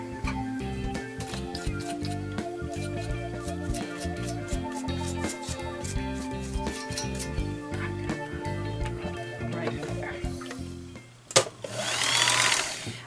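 A Kenmore 158.13413 sewing machine runs with a rapid, steady mechanical clatter for about eleven seconds and then stops, with a short clunk and a brief rustle at the end.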